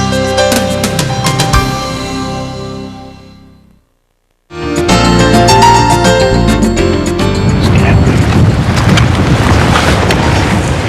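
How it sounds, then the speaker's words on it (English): Strong wind blows across open country in loud, roaring gusts that buffet the microphone, with one sudden brief drop to silence partway through before the rushing resumes. "It's a very windy day in open country."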